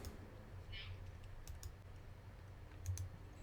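Computer mouse and keyboard clicks, a few soft scattered taps close by in a quiet room, with brief sharper clicks near the start and again toward the end.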